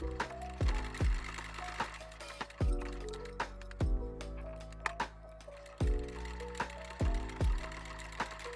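A sewing machine runs in short bursts, stitching two lines across a fabric strap holder. Each burst is separated by brief pauses and clicks, and the sound stays close and moderate in level, with no talking.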